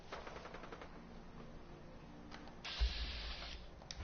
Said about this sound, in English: Now I hear gunfire